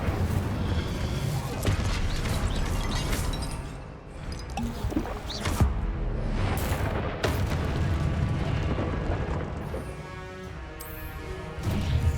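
The Incendio fire spell in Hogwarts Legacy goes off in a loud, sustained fiery burst with crashing, booming impacts amid ongoing combat sounds.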